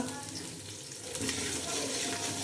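Curry leaves fry in hot oil alongside browning onions for biryani, a steady close sizzle and crackle that holds throughout at moderate loudness.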